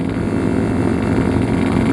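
Yamaha RX King 135 cc motorcycle ridden at night in a group with larger bikes, its engine a steady, loud, close droning roar blended with wind rush, with no pause.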